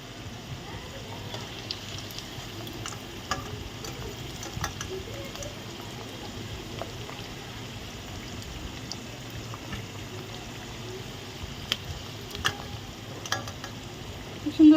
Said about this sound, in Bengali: এই যে আমি এক এক করে সবগুলো ক্রিসপি ভেজে নিচ্ছি